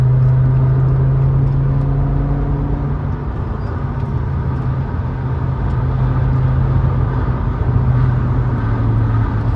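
A BMW M5 E60 four-door sedan engine, 507 horsepower, hums steadily up close with a low, droning tone, rising slightly in pitch as it accelerates in Toronto city traffic, surrounded by road and traffic noise.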